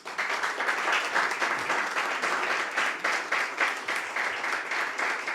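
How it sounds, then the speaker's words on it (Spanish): A church congregation claps enthusiastically for Jesus during an apostolic visit service: loud, dense applause from a large crowd, steady and rhythmic-textured throughout about five seconds, with no talk over it. "¿Le damos un aplauso a Jesús?"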